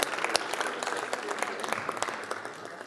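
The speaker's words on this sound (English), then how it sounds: "Another warm welcome, warm round of applause." An audience at a fisheries and ocean dialogue on the sustainable blue economy gives a round of applause, scattered distinct claps from a modest crowd, moderately near and steady throughout.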